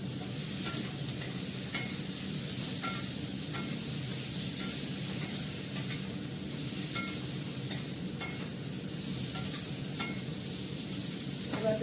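Green chillies and ginger paste fry in mustard oil, giving a steady close sizzle with faint stirring scrapes and small pops throughout, no voices.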